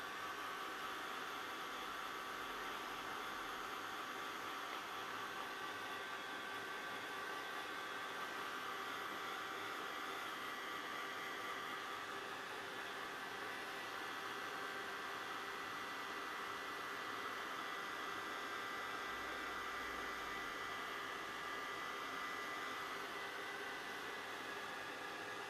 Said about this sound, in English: So I'm just going to dry that off and bubble it if I can